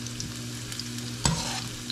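Garlic frying in a pan until golden brown, a steady close sizzle with an audible stir and clatter partway through, moderately loud and without speech.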